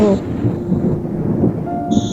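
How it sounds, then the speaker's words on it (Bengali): A cartoon thunderclap rumbles loudly and steadily through a horror story, with a low, rolling boom under brief tonal music cues at the start and end. "বাইরে বজ্রপাত হলো,"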